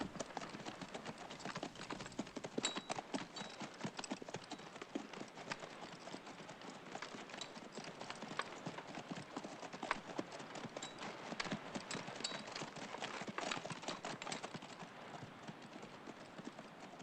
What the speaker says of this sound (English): Dismount and lead out, Mr. McQuaid.